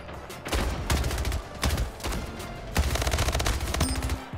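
Rapid SMG bursts crack out in the video game Splitgate, several quick volleys separated by short pauses, close and punchy, with no speech over them.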